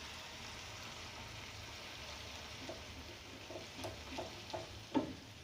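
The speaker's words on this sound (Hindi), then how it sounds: "बहुत अच्छा मसाला भूनना है।" Masala with yogurt frying in a pan for a bone curry, a steady soft sizzle with a few louder stirring scrapes toward the end.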